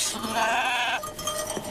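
A goat lets out one drawn-out bleat lasting about a second, close and fairly loud, followed by softer background noise.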